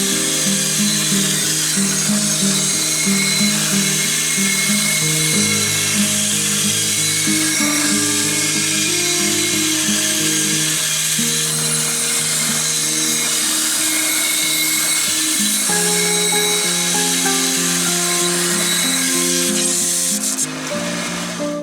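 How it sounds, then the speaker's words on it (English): A bandsaw cuts a circle from a slab of barrel wood, a continuous whining drone with shifting tones that runs for about twenty seconds with no talking. "I'm going to get this over to the bandsaw, make a circle with it"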